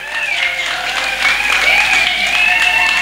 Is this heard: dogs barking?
no